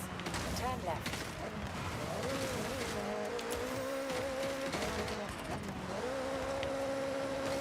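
The engine of a Subaru WRX in the Forza Horizon racing game hums steadily with a shifting tonal drone, mixed with other game noise and talk.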